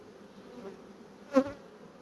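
Honey bees hum steadily around an open beehive, a close continuous buzz with one brief louder swell as a bee passes near, and no talking.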